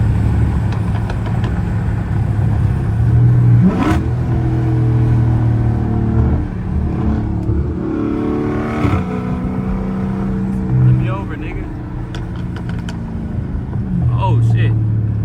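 A 500hp Scat Pack car engine rumbles loudly from inside the cabin, with three rising revs blipped for downshifts spaced a few seconds apart, while people talk over the drone.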